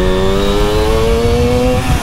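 A Suzuki GT185 two-stroke motorcycle accelerates with a rising, buzzing engine note that climbs steadily in pitch, loud and close throughout with no talking.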